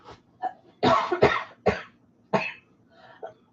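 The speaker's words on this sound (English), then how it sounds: "she can hear you coughing" Several harsh coughs from one person, spaced irregularly with short pauses between, close and fairly loud against a quiet background.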